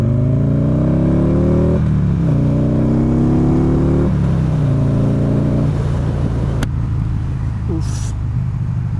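A Buell XB12S motorcycle accelerates hard in first gear, its loud, close engine note climbing in pitch through several repeated surges before dropping back to a rougher, lower rumble.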